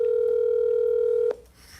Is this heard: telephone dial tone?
yes